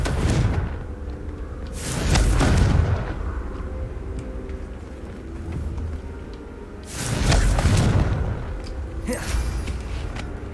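Fiery spell blasts from Hogwarts Legacy combat, two heavy booming bursts with rumbling tails a few seconds apart, loud and close, amid continuous game ambience.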